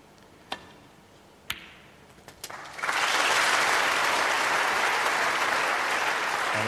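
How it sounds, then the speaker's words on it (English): Sharp isolated clicks of snooker balls ring out in a quiet hall, then a packed audience bursts into loud, sustained applause that continues to the end. "And a generous round of applause."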